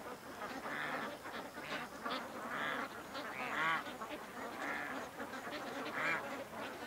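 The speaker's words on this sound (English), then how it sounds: "We got ducks over here" Ducks at a lake give a steady run of repeated quacking and honking calls, several birds calling over one another at close to middle distance against an outdoor background.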